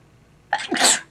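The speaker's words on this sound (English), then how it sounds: "I'm going to be sneezing probably because my allergies are killing me" A single sharp sneeze from an allergy sufferer bursts out after a half-second of near silence, close and loud, with a quick inhaled lead-in.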